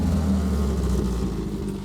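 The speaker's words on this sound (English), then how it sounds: "Give it a little rev." A Ford Focus SE engine runs loudly through its exhaust, a continuous low rumble with a slight rev swell and no talking.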